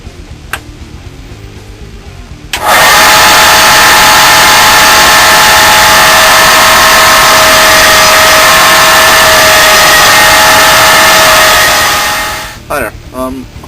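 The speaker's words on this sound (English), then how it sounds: "grinder about to go, and we're cleaning up the assassin" A grinder spins up and runs loud and steady for about ten seconds on a custom knife blade, a continuous high whine and rush that winds down near the end, with brief clicks before it starts.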